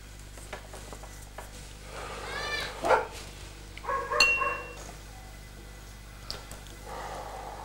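Dogs bark in the distance in a quiet outdoor setting, a few scattered yaps and two short louder bursts around the middle, faint against low background hum.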